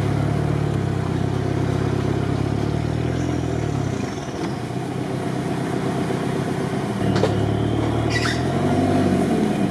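IFA W50 4x4 truck engine laboring hard through a deep water ford, a loud continuous low drone that dips briefly in the middle before rising again, with splashing and clatter over it.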